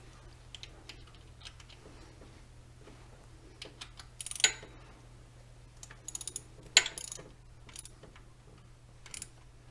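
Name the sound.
tensioning the timing belt on a 1992 Toyota Hilux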